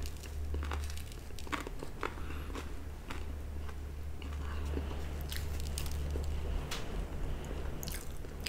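Close-up bites and chewing of a crunchy toasted Thomas' English muffin, with repeated crisp crunches and soft munching over a steady low background hum.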